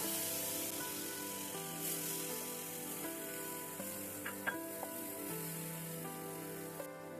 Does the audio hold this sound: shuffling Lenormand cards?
no